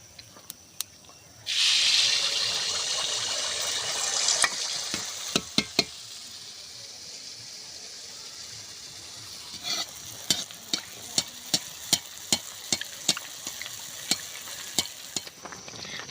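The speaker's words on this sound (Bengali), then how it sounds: "আমি একইভাবে সমস্ত আন্দোসাগুলো ভেজে নেব।" Andosha pitha made with date-palm jaggery frying in oil in a wok, a burst of hissing sizzle early on that settles into quieter bubbling with sharp spatula taps and scrapes, close, no voices.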